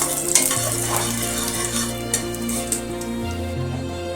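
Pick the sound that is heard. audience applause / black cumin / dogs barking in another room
black cumin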